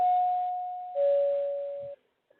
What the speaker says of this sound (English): That's the 2-minute bell.